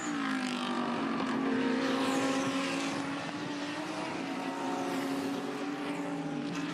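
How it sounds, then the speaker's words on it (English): Race car at the Bathurst 12 Hours on Mount Panorama moving through the pit lane, its engine a steady loud drone with a slowly sliding pitch, heard alone at close range. "That car now in the pit lane"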